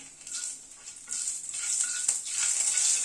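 Fenugreek seeds and a bay leaf sizzle in hot oil over a lowered gas flame, a bright crackling hiss that swells and spits in bursts, growing steadily louder toward the end, with no talking.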